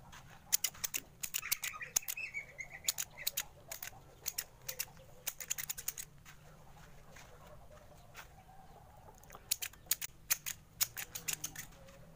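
Sharp bonsai scissors snip twigs and leaves in quick bursts of crisp metallic clicks, pausing between clusters, with faint bird and chicken sounds in the background.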